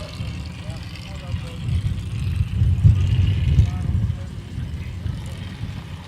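A racing boat engine starts up at a pro race qualifying round, a low rumble building and swelling for a few seconds, loud and steady near the middle, then easing back to an idle-like drone.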